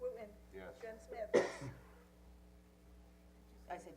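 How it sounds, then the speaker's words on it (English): Single sharp cough rising out of quiet room tone during a roll-call vote at a town board meeting, brief and fairly close, with other voices before and after it. "I said yes in between the cough."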